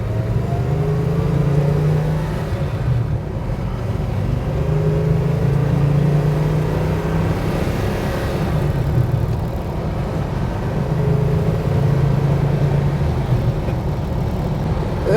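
A 1967 Chevelle SS 396 big block with a 4-speed rumbles steadily while driving, its low engine drone constant and close throughout with no talking.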